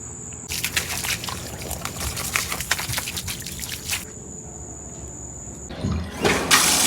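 Water gushes steadily into a bathtub at bath time, a close, rushing splash that keeps up for several seconds, breaks off briefly, then surges again.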